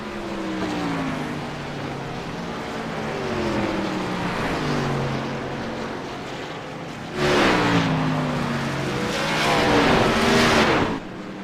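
Xfinity Series race cars roar around the track. Steady high engine drone rises and falls as cars shift, and a louder pass sweeps close by near the end. No talk.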